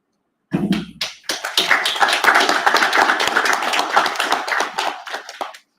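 Applause from a conference audience breaks out, starting with a few scattered claps and swelling into steady, fairly close clapping for several seconds before cutting off.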